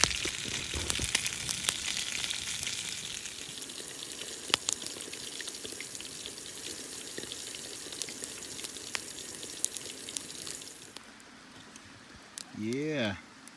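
Pork chops frying in oil over an open campfire outdoors, a steady broadband sizzle and crackle running for most of the stretch, then easing off before a short burst of voice near the end.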